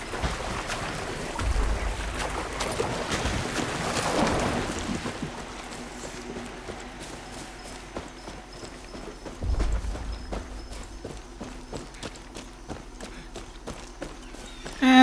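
Rapid rhythmic clip-clop of horse hooves at a steady gallop in the video game Far Cry 6, with a couple of louder thuds along the way.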